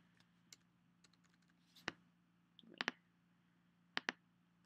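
Keystrokes on a computer keyboard: a few scattered soft clicks, then several sharper paired taps in short bursts, close by in a quiet room with a low steady hum underneath and no talking.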